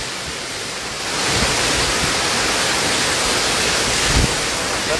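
A huge waterfall plunging from a great height gives a loud, constant roar like heavy surf that swells after the first second and holds steady, with occasional low rumbling thumps.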